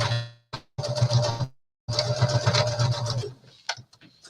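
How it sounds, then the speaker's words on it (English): A sewing machine runs in two bursts of rapid mechanical stitching while quilting, with a short pause between them and a few light clicks at the end. "Don't make funny noises to me, sewing machine."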